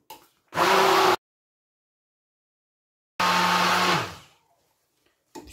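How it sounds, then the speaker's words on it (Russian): Two loud bursts of an immersion blender puréeing tomato sauce, the first short, the second longer and trailing off, separated by silence. "перебиваем все это дело погружным блендером"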